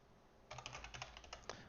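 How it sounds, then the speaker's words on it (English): Quick, light keystrokes on a computer keyboard, a short close burst of irregular clicks over faint room hiss with no voices. "My keyboard just completely stopped working for some reason."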